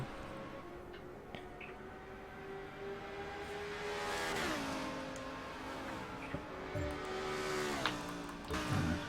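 Audi GT3 race car accelerating hard down a long straight, engine note climbing steadily through the gears with brief dips at shifts, loud and close from on board with no talk over it.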